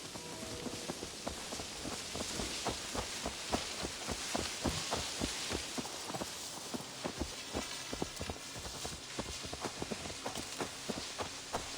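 A horse's hooves clip-clop at a steady walking pace in Assassin's Creed Valhalla, a regular train of distinct close hoofbeats continuing throughout with no speech.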